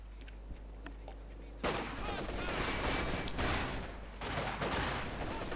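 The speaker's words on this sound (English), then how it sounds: "Also on their light machine gun firing away." In a Company of Heroes 2 match, a light machine gun fires away in dense, rattling bursts. The sustained gunfire starts abruptly and carries on loudly, with a short dip in the middle.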